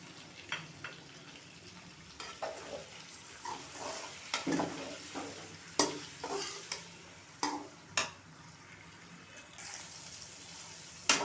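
Green peas being stir-fried in a pan for a restaurant-style pulao, with soft sizzling under a series of scraping spatula strokes and light clatters at an uneven rhythm, close and fairly quiet.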